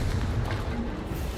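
Confringo fire blast spell cast in the video game Hogwarts Legacy, a short dense roaring burst of low rumbling force that fills the whole moment, loud and close, with no pauses or talking.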